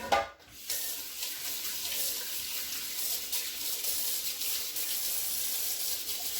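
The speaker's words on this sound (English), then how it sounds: "I'm just going to wash my hands because I'm going to play with the dough." Hands are washed under a running kitchen tap before handling dough, a steady close gush of water after a brief knock at the start, continuous and even throughout with no speech.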